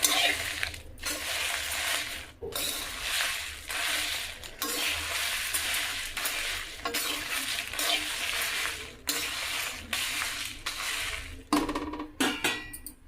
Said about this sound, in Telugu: ఇవి బాగా వేయించుకోవాలన్నమాట ఇది కలుపుతూనే ఉండాలి